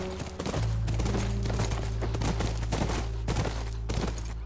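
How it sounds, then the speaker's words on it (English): Steady rhythmic hoof clops from a horse at a gallop in the video game The Last of Us Remastered, over a constant low rumble, sounding game-like and continuous. "That's our horse."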